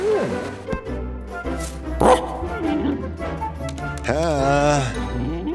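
A small dog yips and whimpers in short, high-pitched bursts, close by, with a voice speaking in between.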